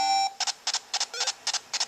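Electronic buzzer of the Jeopardy! NES game rings in as a contestant signals: a steady tone followed by a rapid series of short paired beeps, crisp and evenly spaced, with no talking.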